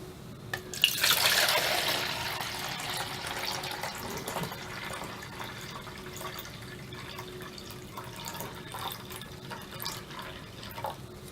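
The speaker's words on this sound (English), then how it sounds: "Fill the samples to the 1 litre mark." Water pours into 1-litre sample containers for a chlorine demand test, a bright splashing burst at the start that settles into a softer steady trickle, close and with no talking.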